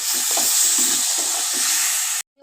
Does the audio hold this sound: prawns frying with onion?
yes